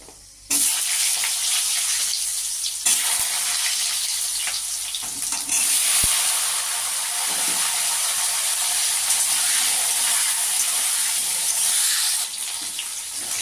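Loud, continuous hissing sizzle of vegetables frying in hot oil, steady throughout with a few brief clacks of a utensil against the pan.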